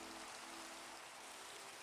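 Rain falls in a video game as a faint, steady hiss of droplets, soft and even for the whole moment.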